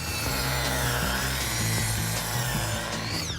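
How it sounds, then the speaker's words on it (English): A power saw cuts through asphalt roll roofing with a loud, continuous motor whine and a gritty, rasping bite into the material. It runs close and unbroken for the few seconds of the cut. "I'm gonna give it one last useful mission, and that's to cut this roll roofing"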